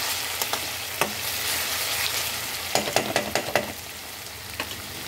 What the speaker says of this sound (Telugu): చక్కగా ఇలా వేగిపోతే పచ్చి వాసన పోయి బాగుంటుంది.